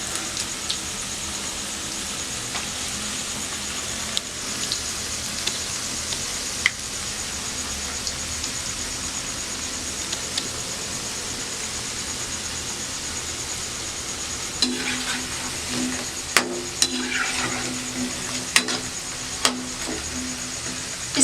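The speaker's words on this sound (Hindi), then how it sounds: "अब मैं इसे पलट रही हूँ, और दोनों तरफ से पकने तक हम इसे ऐसे ही पका लेंगे।" Palak pakora fry in hot oil while being turned over, giving a faint continuous sizzle with occasional soft clicks of a utensil, the hiss growing somewhat louder toward the end.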